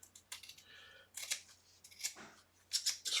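Scissors snipping bias facing fabric at a cutting table, with several separate crisp cuts at an uneven pace, close and fairly quiet over a low steady hum.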